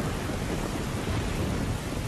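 Thunderstorm heard outside a garage during a severe Monday storm: dense, steady roar of heavy rain with a deep rumbling thunder undertone, loud and continuous throughout without any voices.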